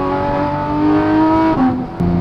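Porsche GT3 RS with a Dundon Motorsport megaphone exhaust revving loudly and close by, its engine note dropping through a downshift with a brief blip near the end.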